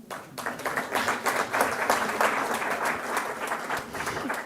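An audience at a climate conference session bursts into steady applause, many hands clapping together at full strength for several seconds after a speech ends, with no talk over it.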